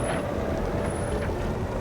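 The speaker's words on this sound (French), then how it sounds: "Nous sommes là avec le H2 Racing Truck." Heavy hydrogen-powered H2 Racing Truck rolling along a Dakar 2022 rally track, a steady low engine and road rumble with wind noise running continuously and fairly close, no speech.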